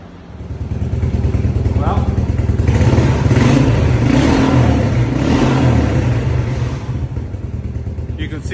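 A 1987 Suzuki LT4WD 250 quad, fitted with the right carburetor and freshly adjusted, idles steadily up close with a continuous low throbbing rumble that swells slightly midway and holds even.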